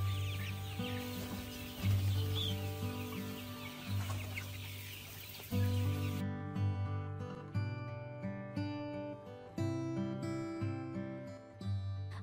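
Black chickens cluck repeatedly on a Chinese free-range farm, a busy overlapping flock heard close up with steady chatter and occasional louder calls.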